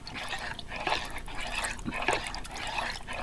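Homemade playdough mixture being stirred in a bowl of water, with soft wet sloshing and light clinks repeating steadily over a few seconds, close and fairly quiet, no talking.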